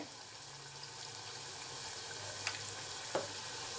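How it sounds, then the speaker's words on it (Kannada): Masala for chicken gravy frying in oil, a faint steady hiss with a couple of light clicks from a utensil, quiet and distant-sounding. "ಇದೊಂದು ಸ್ವಲ್ಪ ಫ್ರೈ ಆಗಬೇಕು"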